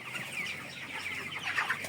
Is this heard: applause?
no